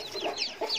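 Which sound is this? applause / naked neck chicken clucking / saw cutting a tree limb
naked neck chicken clucking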